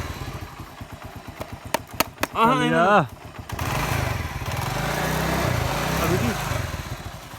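A motorcycle engine starts with a run of rapid pulses and a brief rev, then settles into a steady, fairly close running rumble, with a few voices talking nearby.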